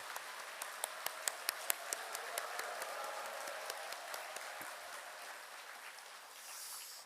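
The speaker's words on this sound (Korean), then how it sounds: "우리 감사의 박수 부탁드리겠습니다" Scattered claps from an audience at a church evangelism rally, sharp individual hand claps over a steady wash of room noise, thinning out toward the end.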